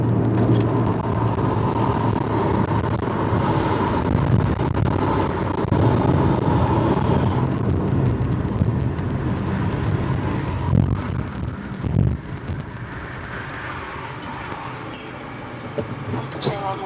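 Steady road rumble and engine drone from inside a moving car, continuous and fairly loud throughout, with a voice talking over it and a few brief bumps near the end.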